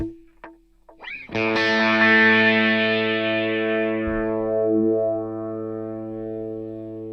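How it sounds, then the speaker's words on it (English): A guitar note run through a pedal's sweep echo delay rings out loud and distorted after a few short plucks, sustaining with shimmering, sweeping repeats that slowly fade. "now we'll bring in a sweep echo"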